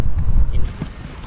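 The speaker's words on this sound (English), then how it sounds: "Very windy this time." Brief gusty wind buffeting the microphone, a low rumbling rush that eases off toward the end.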